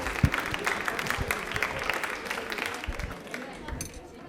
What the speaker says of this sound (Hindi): तालियां जोरों बजाइए प्लीज, कम ऑन एक बार